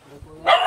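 A single short dog bark bursts out near the end after a quiet moment, fairly close.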